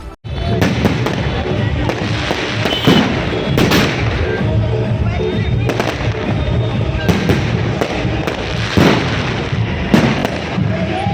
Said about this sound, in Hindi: कार्यक्रम में जोरदार आतिशबाजी की गई।